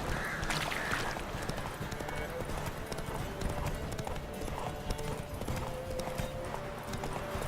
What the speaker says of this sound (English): Come on, you stupid horse, hurry up.